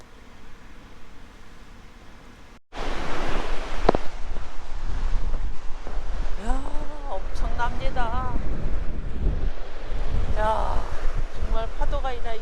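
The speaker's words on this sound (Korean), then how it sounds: "여러분 이거 파도 치는 것도 한번 보세요." Ocean waves breaking on Deoksan Beach on Korea's east coast, a broad continuous roar of surf with wind buffeting the microphone, beginning after a brief quieter moment, with a few voices audible over it.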